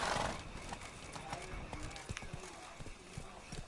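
Hooves of Roach, the horse in The Witcher 3: Blood and Wine on PS4, clip-clop in a steady galloping rhythm with an occasional whinny, close and moderately loud over game ambience.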